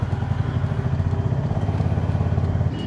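A Honda H'ness CB350 motorcycle being ridden, its single-cylinder engine thumping in a steady, even low rhythm, loud and close with no talk.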